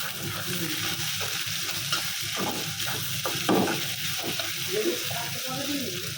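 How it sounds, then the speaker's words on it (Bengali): Shrimp, a hilsa fish head and a tilapia fish head fry in hot oil with a steady close sizzle, broken by a few louder spatters and stirring scrapes. "চিংড়ি মাছ একটা ইলিশ মাছের মাথা একটা তেলাপিয়া মাছের মাথা একটু ডিম এগুলো ভাইজা রাখবো দেন মাছ হচ্ছে তেল উঠছে"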